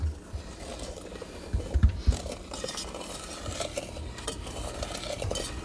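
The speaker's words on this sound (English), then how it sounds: "this is the easy part, is stirring this pot calmly, because it's a liquid" A spoon stirring liquid oats in a pot, soft scraping and swishing with a few dull knocks and clinks against the pot's sides, close and quiet with no talk.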